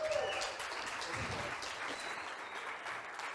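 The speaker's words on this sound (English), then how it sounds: "Ladies and gentlemen, big round of applause for Rogzy." Moderate applause from a conference audience on a Bitcoin event stage welcoming a presenter, fairly even and fading slightly, with some background voices.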